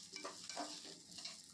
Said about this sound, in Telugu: మీడియం ఫ్లేమ్లో పెట్టి దోరగా వేయిస్తున్నానండి.